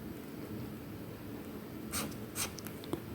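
A hand writes in a quiet room for an ASMR body-parts lesson, faint scratchy pen strokes near the microphone building into a few brief, louder scribbles toward the end.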